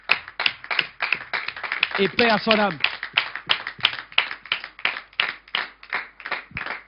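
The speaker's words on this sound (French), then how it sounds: "on va l'applaudir très très fort" An audience claps steadily and energetically throughout at a Christian broadcast honouring a pastor, dense applause close by, with someone speaking over it briefly midway.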